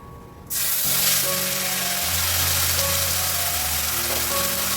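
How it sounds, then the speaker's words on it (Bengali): Onion paste drops into hot oil with nigella seeds and erupts into a loud, dense sizzle that holds steady close up, while faint tones hum underneath. "এবার এর মধ্যে দিয়ে দেবো কালো জিরে ফোড়ন ফোড়নটা একটু হয়ে গেলে এর মধ্যে দিয়ে দেবো এই যে পেঁয়াজ বাটা"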